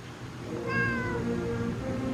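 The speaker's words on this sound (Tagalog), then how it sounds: "He said meow." A cat gives a single clear, drawn-out meow indoors at close range, rising then falling in pitch, heard alone over quiet room noise.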